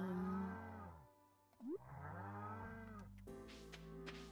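Cows moo in Stardew Valley, several long, low, wavering calls with pitch swoops, one after another, then a rougher burst of game sounds at the end; no talking, moderately loud.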